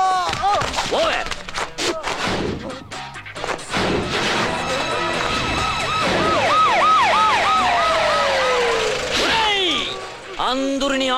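Ambulance siren wailing loudly in repeated rising and falling sweeps, close by, with crashing noises and shouting voices at the start and traffic sounds underneath.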